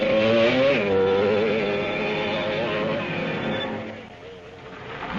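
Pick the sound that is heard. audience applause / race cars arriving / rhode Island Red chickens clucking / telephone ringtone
race cars arriving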